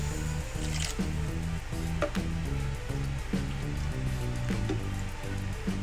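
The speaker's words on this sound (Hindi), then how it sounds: "अभी इसी कप से मैं पानी ऐड कर रही हूँ इसमें।" Water is poured from a cup into a pan of sugar on an unlit stove, a soft, continuous splashing trickle that stays faint beneath steady background music.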